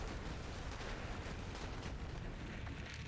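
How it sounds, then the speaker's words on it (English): Dense, continuous rumble of explosions and blasts from a Borderlands-style shooter played on Mayhem 11 with a Moze build, sustained loud booming and crackling through the whole stretch with no pauses. "Notice how I'm only going down because of my own like explosions and stuff."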